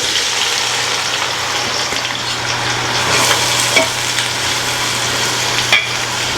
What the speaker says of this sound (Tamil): வெட்டி வச்ச வெங்காயத்தை எடுத்து அதில் போட்டுடலாம்